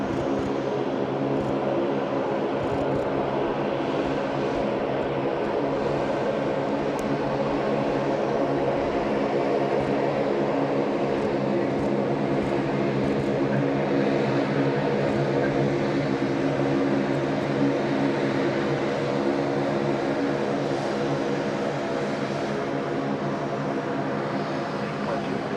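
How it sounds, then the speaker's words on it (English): Aircraft noise at Sydney Airport, a steady broad roar of engines holding evenly throughout, fairly distant, with voices faintly present in the background. "Beautiful sounds of plane spotting"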